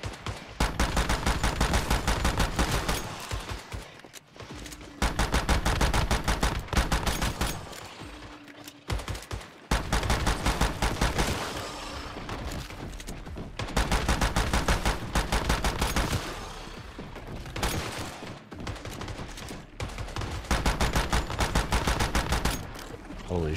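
Turrets in a video game fire rapid, continuous automatic bursts, dense and loud, over several long stretches broken by short gaps.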